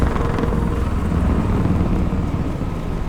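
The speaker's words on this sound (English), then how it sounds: "This perspective from the news helicopter" News helicopter in the video game Detroit: Become Human, a steady, loud rotor and engine drone that fills the whole stretch without any talk.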